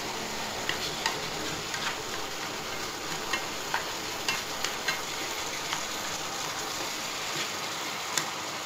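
Water poured into a hot pan of braised anchovies sets off a continuous, even hiss and sizzle with small scattered ticks and pops, close and moderately quiet, with no talk.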